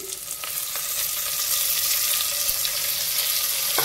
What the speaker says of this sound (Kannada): ಈರುಳ್ಳಿ ಫ್ರೈ ಆಗಿದೆ, ಟೊಮೊಟೊ ಹಾಕ್ತಾ ಇದ್ದೀನಿ